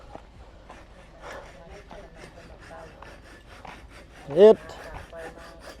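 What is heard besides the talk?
hand saw sawing wood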